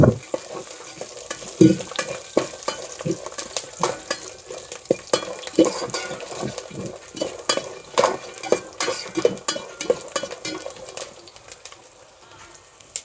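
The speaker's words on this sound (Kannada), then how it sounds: "ಇವಾಗ ಚೆನ್ನಾಗಿ ಫ್ರೈ ಮಾಡ್ಬೇಕು ಇದನ್ನು." Garlic sizzles in hot oil in a pan as a spoon stirs and knocks against the metal in a quick, uneven rhythm. The cooking is close, the frying hiss stays moderate, and it fades toward the end.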